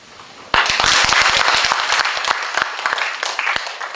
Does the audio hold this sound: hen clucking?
no